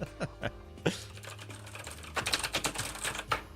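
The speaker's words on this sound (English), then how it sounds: "The only pro of my loud ass fucking keyboard." Fast, clacky keystrokes on a loud computer keyboard come in quick irregular bursts, with a few isolated taps first and then a denser flurry of close, sharp clicks.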